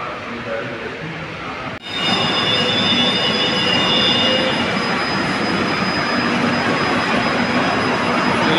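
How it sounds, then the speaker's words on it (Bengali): A Kolkata Metro train pulls into Rabindra Sarobar station, a loud, steady broadband rumble with a high wheel squeal that swells in after a brief dip and holds close for the rest of the clip. "মেট্রো এসে গেছে"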